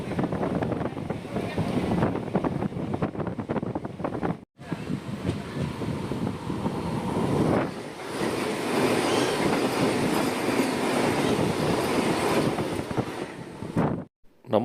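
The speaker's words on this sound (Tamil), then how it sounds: "சென்னை சென்ட்ரல்லேருந்து கோயம்புத்தூர் வர வந்தே பாரத் வருதுங்க" A Vande Bharat train running from Chennai Central to Coimbatore roars past close by with a loud, continuous rushing rumble and heavy wind buffeting, briefly cutting out twice.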